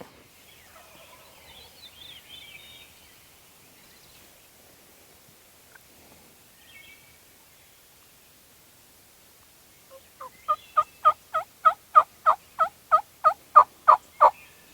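Wild turkeys in timber gobble in a loud, rapid rolling burst near the end, after a long stretch of faint, hushed woodland background.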